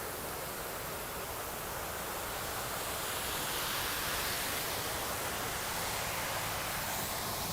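Waterfall at Oakley Creek in Auckland, pouring in a continuous broadband roar that stays loud and steady throughout, with no voices over it.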